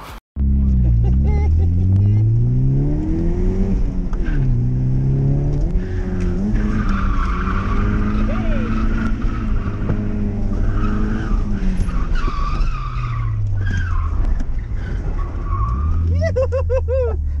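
A Nissan S13 with a CA18DET engine revs hard and skids, the engine note rising and falling through repeated throttle swells with tire squeal over a loud, continuous roar.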